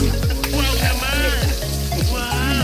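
Dried salted fish (daing) sizzles and crackles steadily in hot oil, a dense continuous frying hiss with occasional pops, close and loud.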